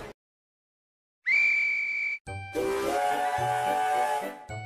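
A steam locomotive whistle blows one loud, steady note, then cuts off. Rhythmic chuffing and hiss follow with a second, lower whistle sounding over them, and no voice is heard.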